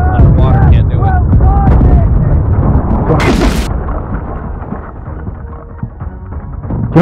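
Heavy cannon fire in the naval battle game Blackwake, booming and rumbling in a dense, loud mix with a sharp burst near the middle, while voices talk over the fighting.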